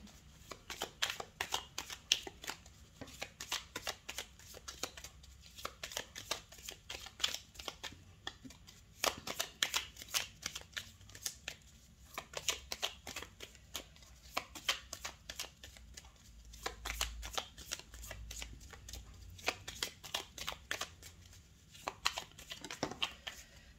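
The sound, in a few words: shuffling tarot cards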